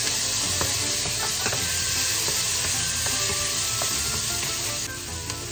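Tomatoes sizzle in a hot pan while cabbage with shrimp is stir-fried, a loud continuous frying hiss close up with occasional stirring clicks and scrapes.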